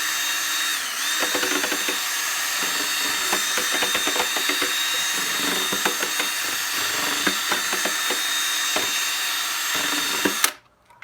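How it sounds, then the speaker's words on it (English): A paint mixer spun by a power drill stirs hydroponic nutrient solution in a container, a steady close whine with churning, rattling texture running continuously for about ten seconds before stopping abruptly. "It's a paint mixer on a drill, and I actually like to use this."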